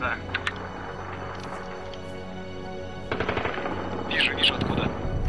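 Rapid gunfire in a multiplayer shooter video game, bursts of automatic fire over a steady game backdrop, with players talking over it.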